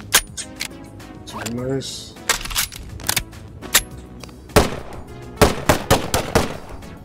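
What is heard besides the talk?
gunshots from a Starfield weapon mod in the video game Bonelab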